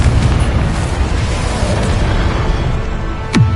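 Confringo blasting spell detonating in Hogwarts Legacy: a loud, sustained booming blast with a dense low rumble, closing on a brief sharp burst at the end.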